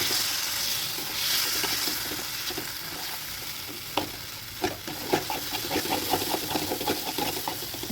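Chana dal besan is stirred and fried in a kadhai over a continuous loud sizzle, with rhythmic scraping taps of the spatula against the pan growing more frequent in the second half.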